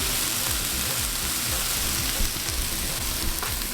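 Tofurky Italian sausage sizzles loudly and steadily in a hot pan, a dense close frying hiss with faint stirring underneath and nobody speaking.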